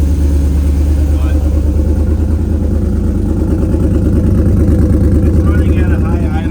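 A 6.0 Vortec V8 engine runs at a high idle just after startup, with a loud, steady low rumble and rhythmic pulsing heard close for the whole stretch, without clear changes in speed.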